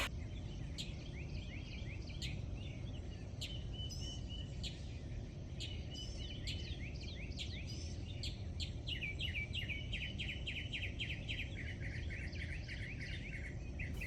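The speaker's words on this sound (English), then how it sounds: "we have also a tit coming to visit" A tit chirps and twitters in a garden, bright repeated calls over a steady hiss of background noise, joined by other small birds.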